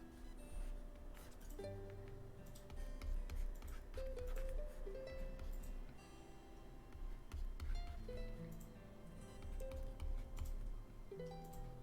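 Quiet typing on a computer keyboard, with irregular bursts of soft key clicks and taps in a faint room background.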